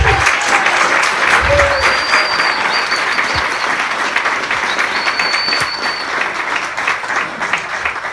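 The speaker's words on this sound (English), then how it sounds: "can we also take a moment to have a round of applause for all of our volunteers?" A crowd applauds food bank volunteers at a ribbon-cutting event, sustained loud clapping with a few faint cheers and brief whistle-like tones, tapering slightly toward the end.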